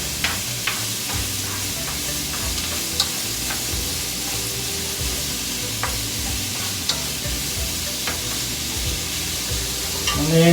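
Onions sauté in a pan on the stove, giving a dense, even sizzle with occasional sharp ticks of a spoon stirring, close and continuous, with no voices.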